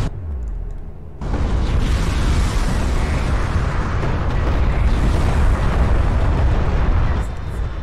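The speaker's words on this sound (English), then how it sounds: "Another missile barrage comes down on the railguns." A missile barrage from a strategy game strikes railgun units, a dense continuous rumble of overlapping explosions that starts abruptly and stays loud for several seconds.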